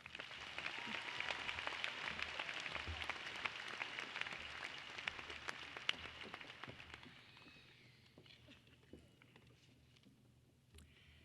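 Applause at a high school graduation ceremony, a large crowd clapping steadily as a dense, distant-sounding patter that fades and thins out toward the end, with no one speaking over it.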